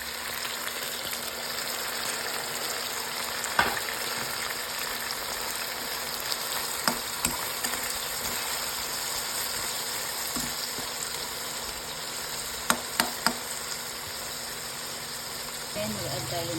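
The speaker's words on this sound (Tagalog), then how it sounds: "So, i-add natin guys yung marinated na sauce natin." Chicken pieces sizzle steadily in a hot pan for chicken estofado as marinade sauce is poured in, a constant frying hiss with a few sharp utensil clicks against the pan.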